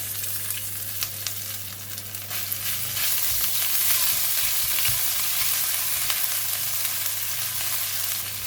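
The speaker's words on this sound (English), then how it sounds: "In the same oil, I'm putting in the garlic and the ginger" Garlic and ginger dropped into the same hot oil just used for frying okra sizzle in a continuous hiss that swells louder partway through, with scraping stir strokes close by and no talk.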